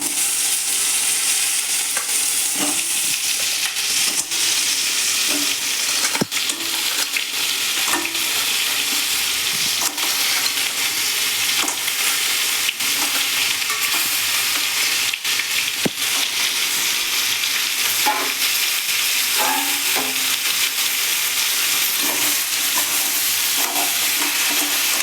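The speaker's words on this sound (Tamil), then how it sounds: "இப்போ இந்த நண்டை நம்ம போட்டு பெரட்டி எடுத்துடணும்." Crab pieces stir-fry in hot oil with turmeric and rock salt, a loud, continuous sizzle broken by repeated scraping and stirring knocks from a spatula over the full stretch.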